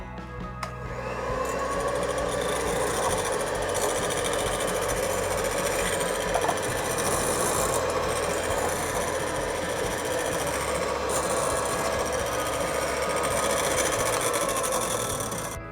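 An electric mixer beats homemade mayonnaise in a bowl, giving a steady, close motor whir that runs without a break for about fifteen seconds.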